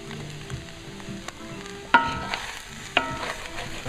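Tofu frying in a pan that runs a little too hot for a basic vegan stir fry, a steady low sizzle with two sharp clinks of a utensil against the pan partway through.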